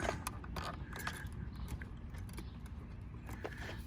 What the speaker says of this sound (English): we're just going to get a flat screwdriver and just, pry that tab out.